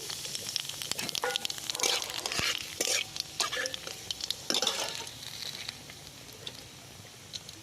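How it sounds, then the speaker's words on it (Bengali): Black cumin seeds and a whole dried chili splutter in hot oil as a tempering, a loud burst of close crackling and sizzling with some utensil clinks that settles into a softer hiss. "কালো জিরে নিয়ে নিয়েছি ফোড়ন দিয়ে দিচ্ছি একটা গোটা শুকনো লঙ্কা দিয়ে দিচ্ছি"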